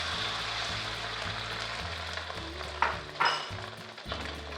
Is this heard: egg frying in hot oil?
yes